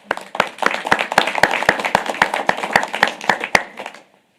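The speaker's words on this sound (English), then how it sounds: "I need to give you all a round of applause as well" A small group at a San Angelo city council meeting clapping, with distinct sharp hand claps in an uneven rhythm for about four seconds before stopping abruptly.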